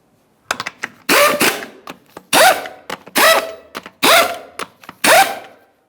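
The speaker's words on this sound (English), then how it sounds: "Start on all 5 of your 21mm lug nuts, we'll bottom them out" Lug nuts being tightened on a 1994-2001 Dodge Ram 1500 front wheel with a ratchet and 21mm socket, giving a series of close, sharp, clicking strokes in an uneven rhythm.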